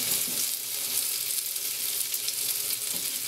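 Bacon fries in a pan with a continuous, dense crackling sizzle, close and steady throughout, with no talk.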